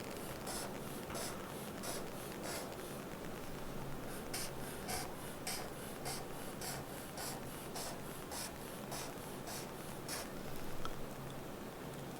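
A pencil scratching three zigzag lines across paper, a continuous dry rubbing with rhythmic back-and-forth strokes, close and steady with no talk.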